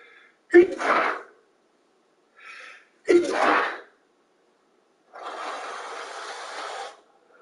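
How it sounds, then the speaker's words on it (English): Two sharp, explosive sneezes a couple of seconds apart, followed by a faint breath and a longer rushing noise like a nose being blown. "These damn sneezes."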